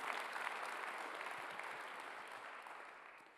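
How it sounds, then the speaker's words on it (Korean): A church congregation at a Korean Sunday worship service applauds loudly and steadily, a dense wash of clapping that fills the room and fades slightly toward the end. "박수 세게 쳐요."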